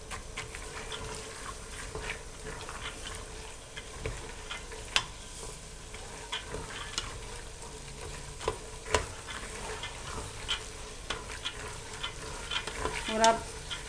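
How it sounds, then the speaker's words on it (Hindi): A spoon breaks up chicken livers frying in a pan, with a soft continuous sizzle and scattered scraping, tapping stirs, fairly quiet throughout. "चिकन लिवर को आप साथ से चम्मच से तोड़ते जाएं"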